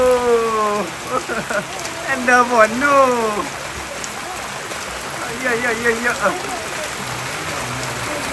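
Rain falls steadily at a village home, a constant hiss running beneath several people who talk and call out over it throughout.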